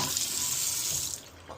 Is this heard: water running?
yes